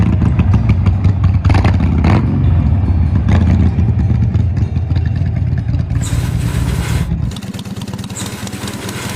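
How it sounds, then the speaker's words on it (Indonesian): A Harley-Davidson 45-degree V-twin motorcycle engine gives a loud, close, throbbing rumble that holds steady, then settles into a slightly lighter, quieter note near the end. "suara gemuruh yang khas dengan mesin V-twin 45 derajat"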